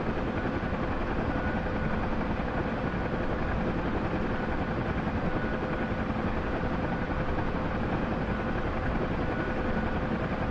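Steady, loud MH-60 helicopter rotor and engine roar from the DCS flight simulator, a constant droning wash that fills the whole stretch without pause or voices.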